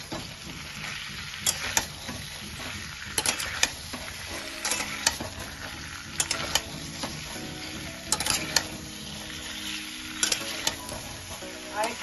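Eggplant pieces fry in a pan with a constant sizzle while a utensil stirs and scrapes in repeated bursts, close and clear with no talking.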